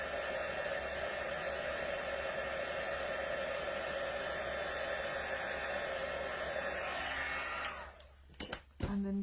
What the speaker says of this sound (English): So I'm just setting this with the heat tool.